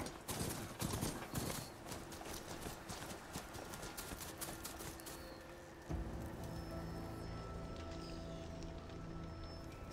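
Horse hooves clip-clopping steadily as a rider turns in the video game Horizon Forbidden West, the rhythmic footfalls mixed with game ambience and a shift in background sound partway through.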